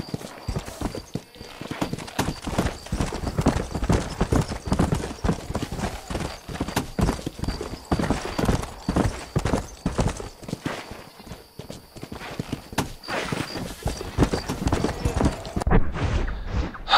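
Horse hooves in the Red Dead Redemption video game, with a second horse following: a continuous fast clip-clop of hoofbeats, close and prominent throughout, with a brief neigh-like sound and no talk over it.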